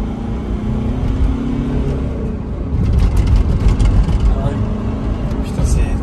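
An electric car pulling away hard, a steady low whir that rises and swells as it gains speed, heard from inside the cabin under continuous talking.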